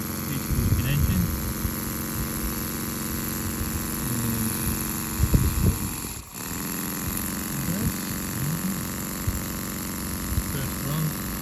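A Rocking Whale RW-V2 V-twin steam engine makes its first test run straight out of the box, freshly oiled, with a steady whirring hum throughout, a few brief knocks, and someone talking over it.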